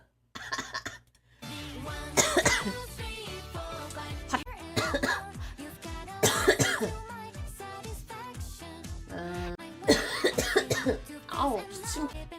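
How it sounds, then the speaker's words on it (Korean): A girl with a cold coughs repeatedly in close, sharp bursts spread across the stretch, with her own speech and throat sounds mixed in between the coughs. "아우 기침."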